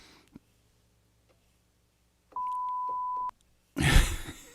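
A steady electronic censor bleep, a pure sustained tone lasting about a second, follows a faint click and quiet pause and is followed by a loud burst of noise.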